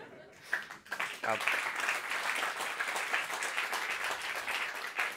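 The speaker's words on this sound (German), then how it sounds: "Ich möchte den Applaus nicht abwürgen" A comedy show audience at a German stand-up performance breaks into sustained, full applause after a short pause, and a performer's voice is heard briefly amid the clapping.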